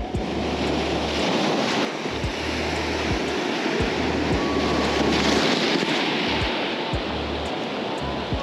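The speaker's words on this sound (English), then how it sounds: "The waves might be a little too rough over here." Rough ocean waves crash and wash against a rocky jetty at Oceanside, California, a steady loud roar of surf with strong wind buffeting the microphone in repeated low thumps.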